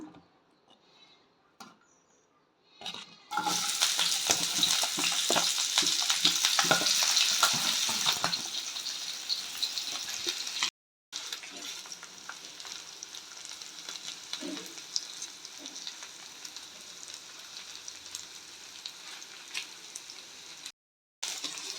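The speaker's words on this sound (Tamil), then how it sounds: "அடுத்து பீர்க்கங்காய் தோலை வந்து நம்ம இழைச்சி ரெடி பண்ணி வச்சுருக்குறோம் அது இந்த எண்ணெயில் போட்டு நல்லா வதக்கி எடுத்துக்கிறோம்" Grated ridge gourd peel sautéing in hot oil: a loud, steady sizzle with faint stirring scrapes, then a quieter continuing fry after a brief gap, with no talk over it.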